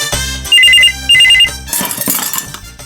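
A telephone ringtone chirps in two short repeated electronic trills over background music, followed by a rising musical flourish.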